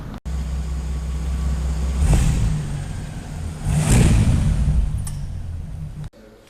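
Bentley Continental GT Mulliner engine idling with a deep rumble, then revved twice in quick succession, each rev swelling and fading before the engine cuts off.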